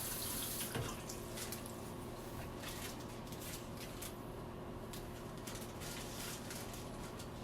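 A tap runs water steadily into a basin, a continuous even rush with faint birdsong in the background and no talking.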